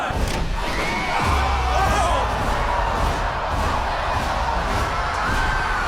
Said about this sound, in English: they were instructed to cheer